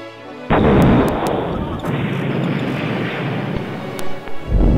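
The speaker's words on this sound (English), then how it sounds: "there has been an explosion near Ceres" An explosion sound effect from a Star Trek fan film: a sudden loud, dense roaring blast that holds as a sustained rumbling wash for about four seconds before breaking up into rolling surges.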